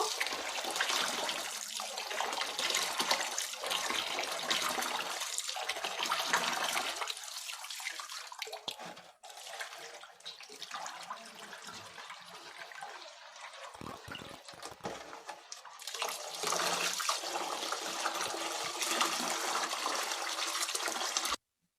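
Rice and lentils being washed in water for egg khichuri, a steady broadband swish and splash of water running and sloshing close by, continuing almost without pause with a brief dip midway.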